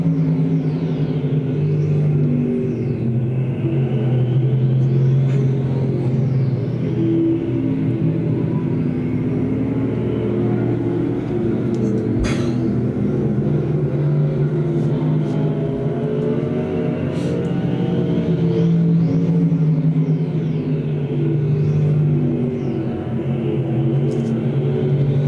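Stock cars race in a heat at Thunder Hill Speedway with three cars battling up front, a loud, continuous engine roar as cars sweep past again and again.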